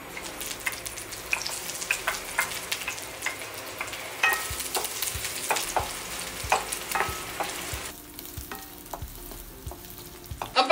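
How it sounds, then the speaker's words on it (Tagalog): Onion sautés in hot oil in a pan for ginisang gulay, a continuous sizzle with frequent scrapes and taps of a utensil stirring, getting quieter toward the end. "Ang una natin gagawin syempre ay igigisa natin ang onion and garlic."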